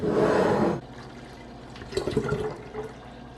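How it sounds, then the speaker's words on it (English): Cool filtered water pours into a kombucha container for jun fermented tea, a loud steady gush for under a second that cuts off abruptly, then quiet handling clatter and small splashes. "Add your cool filtered water."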